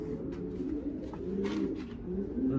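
Racing pigeons coo inside a loft in a steady, overlapping chorus of low throaty calls that runs throughout, with no talking.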